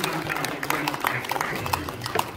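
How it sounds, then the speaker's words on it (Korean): Scattered clapping fills an auditorium during a Korean Presbyterian New Year ceremony and inauguration, sharp individual claps rising over a steady background murmur of the crowd. "자, 우리 박수로 그냥 이렇게 소개하는 것으로"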